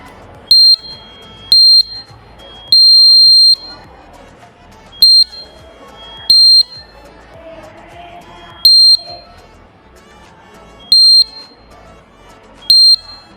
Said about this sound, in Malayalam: ഇവിടെ സ്ഥാപിച്ചിട്ടുള്ളത് ഓട്ടോമാറ്റിക് അലാറം സിസ്റ്റമാണ്.